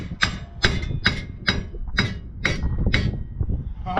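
Hammer strikes knocking a worn wheel bearing out of a GMC hub, about eight sharp metallic blows in a steady rhythm, close and loud, with a clinking ring after each hit.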